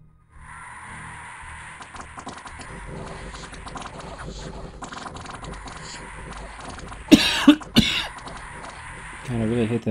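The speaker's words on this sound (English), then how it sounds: "I really hate that I'm coughing" A person coughs in a short burst of loud, harsh coughs late in the stretch, over a steady bed of quiet talk and keyboard-like clicking during a Dominions 5 strategy game session.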